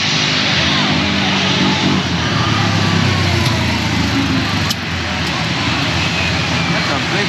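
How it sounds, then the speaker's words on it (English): A large airplane comes in low to land over Maho Beach on St Maarten, its loud, steady engine roar filling the air throughout with a slight dip near the end. "Plane coming in, guys."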